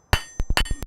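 Hammer blows land on hot metal resting on an anvil in a smithy, about five sharp, ringing strikes close by, loud and spaced unevenly within a second.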